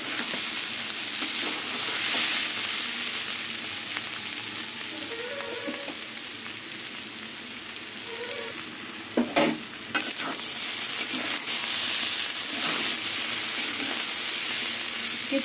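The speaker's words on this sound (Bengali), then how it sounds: "কিছুক্ষণ পর পরই নাড়াচাড়া করতে হবে, নাহলে ভাজাটা পোড়া লেগে যাবে।" Teasel gourd and potatoes fry in oil in a pan, a constant close sizzle broken by occasional scraping stirs and clinks of a spatula against the metal.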